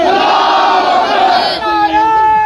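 A large crowd at a protest loudly chants a slogan in unison, with a raised, roaring collective shout close by that shifts into a second chanted phrase.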